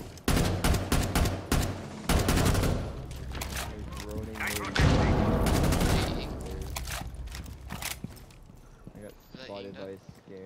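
Rapid bursts of gunfire ring out in Rainbow Six Siege, with loud clustered shots and echoing booms in irregular volleys while players talk over the action.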